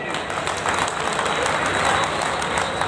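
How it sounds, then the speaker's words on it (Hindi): A crowd at a Baba Saheb birth anniversary gathering in Delhi gives loud sustained applause, a thick roar of many hands with a faint tone and murmur beneath, steady from start to finish. "नारी शक्ति के लिए भी जोरदार तालियां साथियों"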